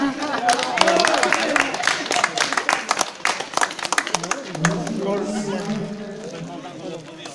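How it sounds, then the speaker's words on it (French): Scattered clapping from a small group at a gathering in the Nîmes arena rises and thins out, with people talking and calling out in French over it. "il faut les applaudir, les gars"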